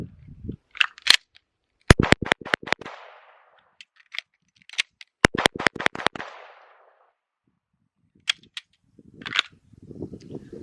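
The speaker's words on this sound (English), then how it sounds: "I'll be using my personal Smith & Wesson M&P chambered in 9mm" A Smith & Wesson M&P 9mm pistol fires two rapid strings of sharp, loud shots during a tactical reload drill, with a pause between them for the magazine change, then a few scattered clicks and handling noises.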